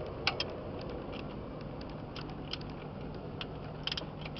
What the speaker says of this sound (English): we are using our 12 millimeter socket to open the two bolts